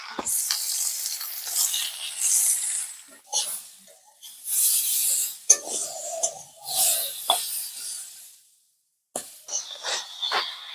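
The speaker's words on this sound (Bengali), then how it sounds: "সবজিগুলো আমি লাল লাল করে ভেজে নিয়েছি।" Vegetables with papaya, salt and turmeric fry in a pan in uneven bursts of crackling sizzle as they are stirred and scraped, with quiet pauses between bursts and a brief silent gap.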